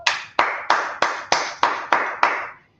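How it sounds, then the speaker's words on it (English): Eight sharp, evenly spaced claps ring out at a brisk, steady beat from a group clapping at a Bible class gathering. Each clap is crisp and close, and the last one fades into silence. "Let's clap it up for the Lord."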